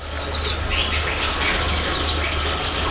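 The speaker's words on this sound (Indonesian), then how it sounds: "burung-burung di sini tuh saling berkicau ya, saling bersautan satu sama lain" Several birds in an aviary chirp and whistle back and forth, short bright calls scattered over a steady rushing background hum.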